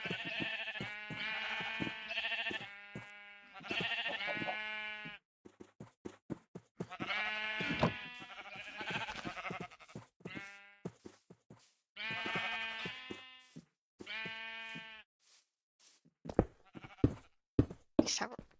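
Sheep in Minecraft bleat over and over in quick strings of harmonic cries, with clicks and knocks from block placing in between and several short bursts near the end.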